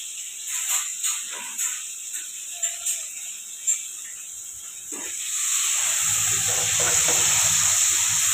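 A few soft knocks and clinks, then a sudden steady hiss as spices start sizzling in hot oil for tempering and keep crackling.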